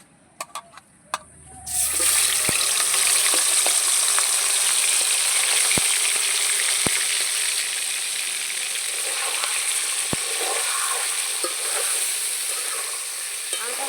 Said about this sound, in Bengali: মাংসটা প্রথমে আমি তেলে ভাজবো